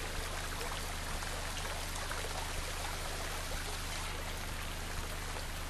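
Floodwater pours into a drainage ditch beside a fire ant nest, a continuous rushing, trickling wash of moderate, even loudness with no voices.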